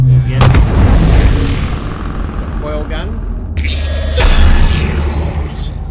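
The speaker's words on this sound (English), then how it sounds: "it's the coil gun." Starfinder coil gun sound effect from the Syrinscape tabletop audio library, heard as a couple of sharp, loud blasts with booming, explosive low rumble and a metallic whine, under talk.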